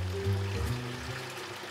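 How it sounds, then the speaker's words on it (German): Rinse water from a washing machine pours steadily into buckets in a villa in Hamburg-Niendorf, a continuous close splashing gush with a low rumble, alone without voices. "Das ist das Spülwasser von der Waschmaschine. Das wird in die Eimer aufgefangen"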